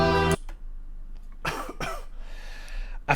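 A person coughs twice in quick succession, close to the microphone, just after a burst of music cuts off, with quiet room noise between and after the coughs.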